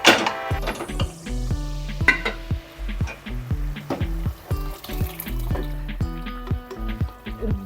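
Mashed chana dal goes into a pan and is stirred, with a rhythmic series of metal spoon clinks and scrapes against the pan over a soft, wet sizzle, close and regular.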